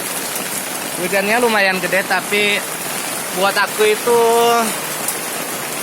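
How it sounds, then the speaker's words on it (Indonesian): Heavy rain pours steadily onto a hut by a garden plot, a dense constant hiss throughout, while someone talks over it. "Hujannya lumayan gede."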